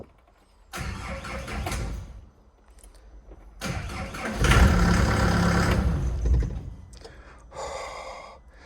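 A car engine, just refitted and with air in the fuel, cranks in two long bursts before catching and running, loud and close with a short pause between attempts.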